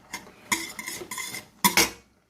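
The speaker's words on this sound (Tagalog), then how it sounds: "i-mix ang pancetta sa grana padano kung uova" Pancetta being mixed with grana padano cheese and eggs for spaghetti, a few clinking scrapes of a utensil against a bowl in short bursts, close and fairly loud with no talking.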